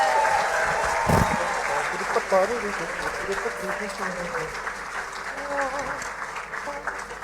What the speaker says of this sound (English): Let's give the St. Lucia musicians and our talented Taiwan Youth Ambassadors the biggest applause again.